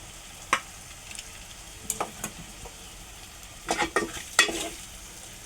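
Potato and brinjal pieces in a pan for stuffed brinjal curry, a faint low sizzle punctuated by sharp clinks and scrapes of a spoon stirring against the pan.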